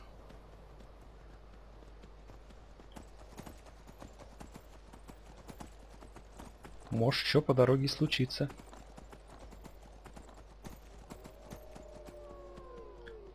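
Hooves of a horse galloping on a road in Skyrim clatter in a quick, loud burst of clip-clop, framed by softer game ambience, with someone talking over it.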